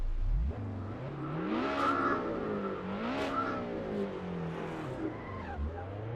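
Race cars in a video game race roar with rising and falling engine revs, and tires squeal and skid repeatedly through the corners, loud and continuous.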